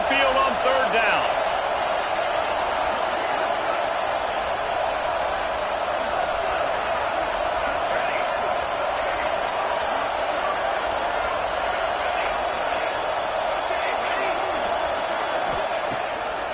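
A loud home crowd roars in the College Football 26 video game as the defense tries to get off the field on third down. The dense, steady wall of noise holds throughout without letting up.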